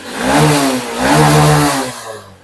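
A Honda SP 125 BS6 motorcycle engine revs up twice under the throttle, rising and falling in pitch. It is loud and close, with a mechanical clatter running through it.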